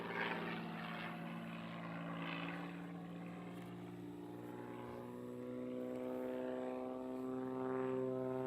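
An aerobatic propeller plane at a national aerobatics competition drones steadily through a four-point roll, its engine tone shifting and swelling toward the end, distant and continuous with no talk.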